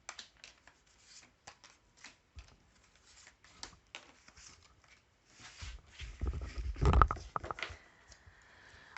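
A deck of tarot cards is shuffled close up: soft, quick riffling and flicking patters that build into a denser, louder burst of shuffling near the end, with no talking.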